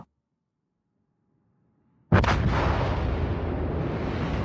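Near silence breaks into a sudden heavy boom of warship guns firing in a World of Warships naval battle, followed by a sustained roaring rumble that carries on to the end.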